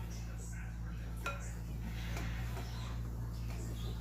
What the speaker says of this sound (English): We got all of that scraped into the pan